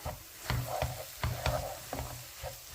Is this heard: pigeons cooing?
no